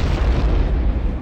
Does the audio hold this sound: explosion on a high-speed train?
yes